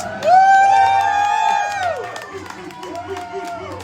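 A pub crowd cheering at a television, whoops and shouts swelling loudly at the start and fading into lively chatter, with a rising-and-falling tone from the screen running through it.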